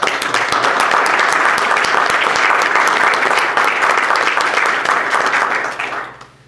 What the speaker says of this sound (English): If we could pause for just a moment and applaud each of those folks for coming forward.